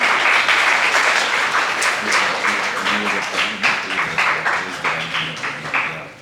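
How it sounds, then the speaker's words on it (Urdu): At a children's assembly in Lahore, an audience breaks into loud applause for a high-school student speaker, a dense roar of many clapping hands that gradually thins into separate, slower claps as it fades. "آپ سب کی زوردار تالیوں میں عقیفہ عمران"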